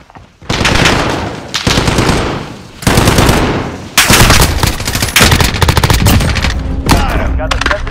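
Sentry gun in a video game firing long, loud, close bursts of rapid automatic fire, broken by short pauses and running nearly continuously.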